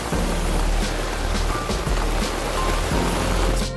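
Heavy tropical-storm rain drums steadily on the full canvas enclosure of a sailboat, a dense, unbroken hiss with no talk throughout.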